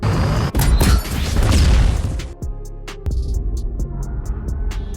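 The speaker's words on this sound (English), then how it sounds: "She decided to detonate the drilling station's core energy to kill the monster." A deep-sea drilling station's energy core detonates in a loud, deep boom with crashing debris and rumble, then cuts to a quieter mechanical hum with sharp clicks and pops.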